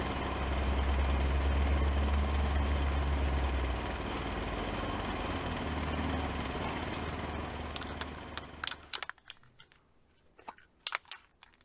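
A Kubota L2501 tractor engine runs in a steady low idle up close for several seconds, fades out, and leaves scattered knocks and clicks.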